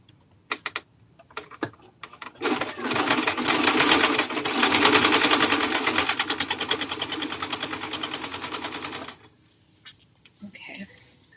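A sewing machine runs a steady, fast stitching burst of about six seconds while side seams are sewn on an adaptive cropped cardigan, framed by brief clicks and handling noises before and after.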